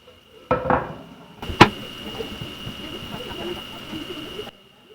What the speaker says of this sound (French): je n'ai plus qu'à ajouter tout ça dans ma casserole